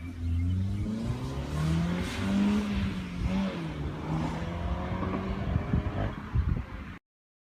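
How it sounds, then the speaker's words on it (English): An Audi S1 with a quad exhaust pulls away under acceleration, its engine note climbing and dropping through gear changes, loud and steady from inside or near the car. "the S1's got a beautiful engine note, so that's piped straight through the quad exhaust"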